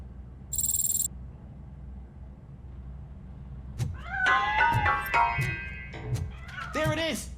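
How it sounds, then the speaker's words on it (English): Cat meowing in the video game RoboCop: Rogue City, several rising and falling meows heard close over a low game ambience, following a short high electronic tone near the start. "That cat must be hiding inside."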